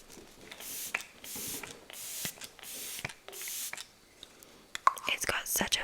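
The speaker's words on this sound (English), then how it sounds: "this is the e.l.f. Stay All Night Blue Light Micro Setting Mist" An e.l.f. Stay All Night Blue Light Micro Setting Mist bottle gives several short, fine hissing sprays in a row, close and soft, followed by light handling clicks and taps, with whispering between bursts.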